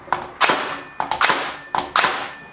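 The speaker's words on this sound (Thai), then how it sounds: "อันนี้ผมก็จะลองยิงกับไม้อัดเนาะไม้อัดน่าจะไม่มีปัญหาอะไร" Makita 40V cordless nail gun fires nails into plywood, three sharp close-up shots spaced under a second apart, each a loud snap with a brief mechanical follow-through, with no talk.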